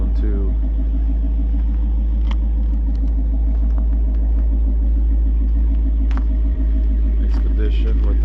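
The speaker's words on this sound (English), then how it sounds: "Guess we could do a cold start on this one too." A Crown Vic with a swapped 7.3 Godzilla V8 sits on a cold start and idles with a deep, loud, steady rumble and occasional small blips, while a person talks over it.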